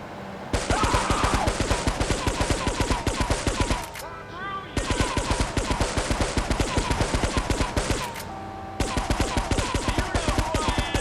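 Rapid pistol gunfire from Grand Theft Auto 3 Definitive Edition, loud dense bursts of shots in three long runs separated by brief pauses, with no talk over it.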